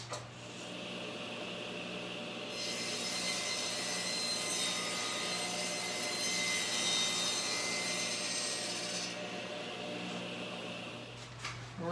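A power saw cuts clamped wooden garden trellis boards marked to 64 inches, giving a steady, loud whirring drone that holds for several seconds before winding down, with no talking.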